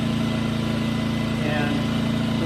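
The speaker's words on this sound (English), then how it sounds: "The engine is still idled down" A Champion 2000 watt portable generator engine idles steadily, a continuous low mechanical hum with no change in pitch throughout.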